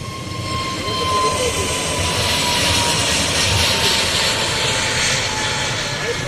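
An airplane taking off, watched from outdoors in blazing sun: a loud, steady engine roar that swells slightly and holds, broad and continuous throughout.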